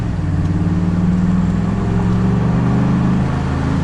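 A 2014 Ford F-150 pickup truck accelerates back up to road speed, its engine a steady, loud mid-range drone with a constant low rumble heard from inside the cab.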